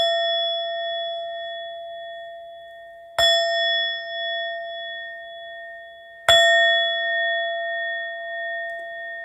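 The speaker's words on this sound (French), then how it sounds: "On va faire 3 petits coups de gong." Three strikes on a gong or Tibetan singing bowl; two sharp metallic hits are evident, each leaving a long clear ringing tone that sustains and slowly fades, loud and close with no talking.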